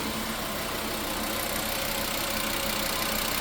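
Volkswagen Jetta engine running steadily at idle, a close, even mechanical drone with a continuous hum and no talking.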